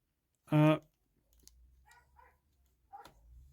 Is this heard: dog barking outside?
yes